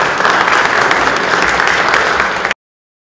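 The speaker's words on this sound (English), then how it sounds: "Please give him a big round of applause." Audience applause in a hall after a congressman is introduced to speak, dense steady clapping from a sizable crowd that holds for about two and a half seconds and then stops abruptly.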